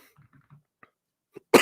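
A few faint throaty sounds, then a single loud, sharp cough bursts out close to the microphone at the end.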